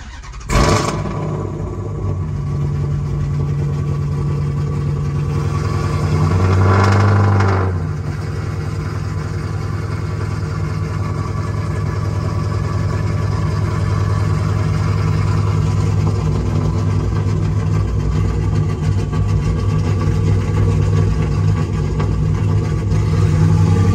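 A Hemi V8 car engine fitted with a Stage 3 camshaft idles with a loud, steady, lopey rumble, then revs up briefly and settles back into a deep sustained drone, heard close from inside the car during a test drive.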